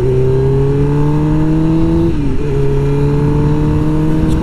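A Suzuki GSX-R1000 motorcycle fitted with a Brembo master cylinder and Yamaha R1 calipers hums at steady cruising speed, its engine note rising smoothly, dipping briefly at a gear change, then climbing again under wind noise.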